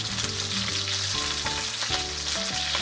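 Skin-side chicken thigh pan-fries in rendered fat and oil, browning for a crispy Japanese-style cutlet, with a steady close sizzle running unbroken throughout.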